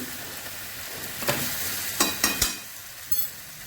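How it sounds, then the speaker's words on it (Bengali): Ghee sizzles in a pan of cabbage with a steady close frying hiss, broken by a handful of sharp stirring clinks and scrapes, and no voices. "ঘি দিচ্ছি"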